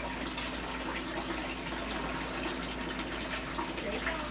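Tap water runs steadily from a faucet into a fish tank, a constant close hiss and gush with no breaks.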